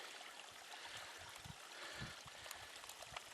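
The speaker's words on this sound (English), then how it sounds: "And this is Teplicka Creek." Teplicka Creek, a warm-water mountain stream near the High Tatras that never freezes, flowing in a steady faint wash with soft gurgles and trickles, heard from nearby without any voices.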